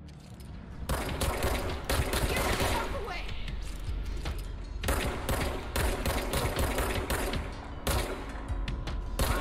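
Gunfire in the video game Control, heard as loud bursts of rapid shots broken by short pauses, close and harsh, with a voice talking now and then underneath.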